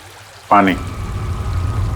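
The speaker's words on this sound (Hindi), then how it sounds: "पानी की आवाज लगती है।" Steady flowing water, like a nearby river or waterfall, runs as a constant rushing bed after a brief burst of speech, continuing alone to the end.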